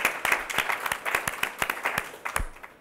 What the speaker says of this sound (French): On peut continuer à applaudir tous les étudiants qui ont présenté aujourd'hui